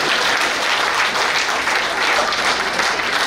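An audience at a patriotic kavi sammelan at Pratap Gaurav Kendra breaks into loud, dense applause, a continuous wash of many clapping hands filling the whole moment without pause.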